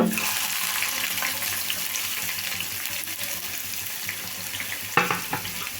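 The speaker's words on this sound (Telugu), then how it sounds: "ఉల్లిపాయ ముక్కలు కూడా మంచిగా వేగాలండి" Chopped onion pieces fry in a pan with a steady, fine hiss for several seconds, and a few louder clicks of stirring come near the end.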